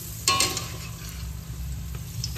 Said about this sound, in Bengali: বড়ার এক পিঠ ভাজা হয়ে গেছে, আর এক পিঠ হালকা করে ভেজে নিচ্ছি।